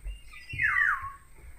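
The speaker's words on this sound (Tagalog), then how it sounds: "May huni na ng ibon." A bird chirps by a river, one clear sweeping call rising and falling over a low outdoor rumble, close and fairly loud.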